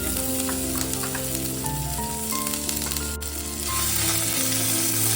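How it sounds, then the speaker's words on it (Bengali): Ginger paste fries in hot oil with a dried red chilli and panch phoron, giving a continuous close sizzle and crackle under steady background music. "আদা বাটাটা একটুখানি কষিয়ে নেবো, নইলে একটা কাঁচা গন্ধ থেকে যাবে"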